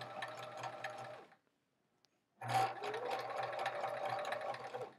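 A sewing machine stitches quilt sashing seams, a close steady mechanical whir that stops for about a second, then starts again and runs on.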